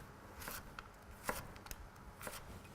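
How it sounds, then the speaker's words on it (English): A knife chops celeriac and root vegetables into matchsticks on a board for celeriac porridge, with a few sharp, separate cuts spaced unevenly across a short, quiet kitchen stretch. "Okay, so cut them into matchsticks."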